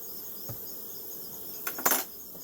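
Honey bees hum around an open beehive during an inspection, a steady near buzz with a couple of brief knocks and clatters from handling the hive.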